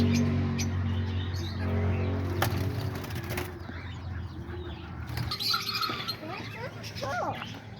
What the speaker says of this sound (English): all the birds from the cockatiels over there, all the way down to the parakeets, lovebirds, and diamond doves